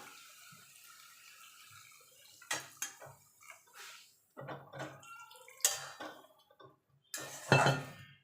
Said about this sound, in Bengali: এবার দিয়ে দেবো দুধ।